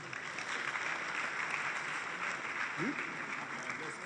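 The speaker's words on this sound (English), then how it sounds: "Please give them a round of applause as they come." Audience applause at an inauguration dinner of a chamber of commerce, a steady, fairly quiet spread of clapping from many diners lasting throughout.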